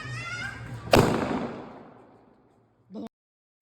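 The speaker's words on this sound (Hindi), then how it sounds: "तो अभी हम बम फोड़ रहे हैं।" Firecracker bursting on a rooftop during Diwali: one sharp loud bang that decays over about two seconds, followed by two shorter cracks near the end.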